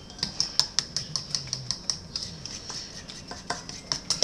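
Chicken pie batter is mixed by hand in a bowl, giving a quick, even run of light ticking and clicking strokes, close and steady for several seconds.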